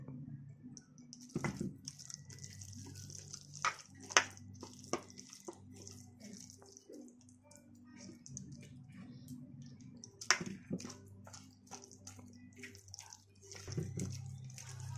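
Chicken pieces being hand-mixed with water in a bowl for chicken Manchurian, giving soft wet squishes and drips in an irregular rhythm, close and quiet, with a few sharper clicks and splashes scattered through.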